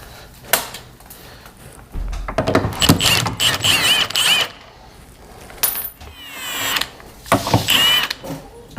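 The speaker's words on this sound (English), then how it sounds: "Now we're going to undo our bolts again." Ratchet and hand tools working the door bolts on a Dodge Dart in a garage, giving bursts of clicking and metallic rattling with clanks and shifting clatter, close and fairly loud, without speech.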